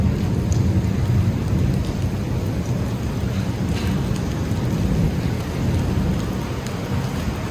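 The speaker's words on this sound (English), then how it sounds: "a whole lot of lightning and thunder" Heavy rain pours steadily during a thunderstorm after a rained-out outdoor concert, with a dense close hiss and low rumbling thunder rolling underneath, continuous and loud with no talking.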